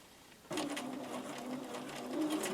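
A sewing machine stitching quilt triangles with a 1/4 inch seam starts up abruptly and runs steadily, a close rapid whirring hum with a faint mechanical rattle.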